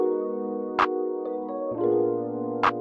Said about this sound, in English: pull up this filtered clap from my drum kit